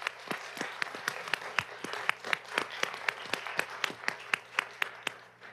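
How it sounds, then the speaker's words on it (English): An audience in a county commission meeting chamber applauds a group of well-dressed students, with sharp individual claps standing out in a steady, moderately close patter that fades slightly at the end. "So let's give them a round of applause."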